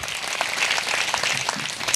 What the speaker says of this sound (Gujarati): બંને હાથોએ જોરદાર તાળી પાડીને પિતા પુત્ર પવિત્ર આત્માનો આદર કરીએ.